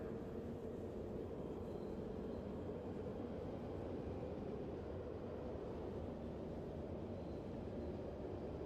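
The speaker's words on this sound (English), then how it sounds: "This train will take you all the way there" A train runs in the video game Fallout London as a low, faint rumble that holds steady throughout, with no speech over it.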